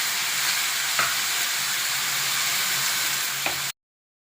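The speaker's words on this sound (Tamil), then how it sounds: "இப்போ நம்ம வதக்கிக்கலாம்" Finely chopped banana flower with tamarind and salt sizzles steadily in a hot pan, with a couple of brief scrapes from stirring, close by, before the sound stops abruptly.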